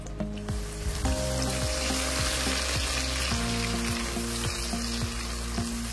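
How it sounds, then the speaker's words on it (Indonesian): Busy, bright sizzling of ground spice paste frying in hot oil for nasi kuning, continuous crackle with occasional stirring scrapes, alone without voices. "kemudian tumis bumbu halusnya hingga matang dan harum"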